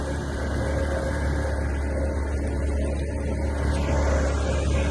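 A boat engine drones at a steady, unbroken pitch while carrying rations through flooded villages near Ferozepur. It stays loud and close for the whole stretch, with no voices.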